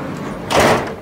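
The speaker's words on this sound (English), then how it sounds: "our door doesn't fully shut, so this is something that we have to do" A bus's back door that does not fully shut is pushed closed, giving one muffled thump with a short rattling rush, close and fairly loud.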